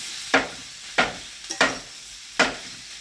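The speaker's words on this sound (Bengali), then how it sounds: "এখন ভালোভাবে নেড়ে চেড়ে দিই।" A spoon stirs fish head and ash gourd curry in a pan over a wood fire, giving four distinct scraping strokes at an uneven pace over a faint sizzle.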